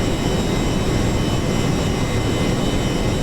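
Jet engines of a B-1A bomber taxiing in a flight video game, a steady loud broadband roar with a high whine that holds constant throughout, no voices.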